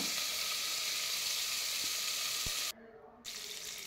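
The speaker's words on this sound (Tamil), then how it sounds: "அதிலே வெங்காயம் புதினா அதையும் போட்டு நல்லா வதக்குங்க." Sliced onion and mint saute in hot oil for bread biryani, giving a steady hissing sizzle with a few faint clicks, briefly dropping to near quiet before the frying hiss returns.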